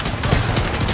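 Dense battlefield gunfire in the World War II shooter Arma 3 Spearhead 1944, a steady, loud wash of overlapping rifle and machine-gun fire with no clear gaps between shots.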